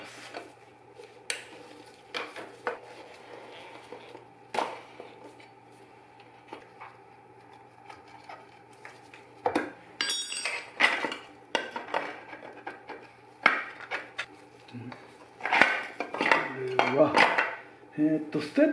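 A T-wrench works the sprocket cover bolts on a Kawasaki Z1 motorcycle, giving sparse metallic clicks and ratcheting taps that grow into busier clinking and scraping near the end, close up and fairly quiet.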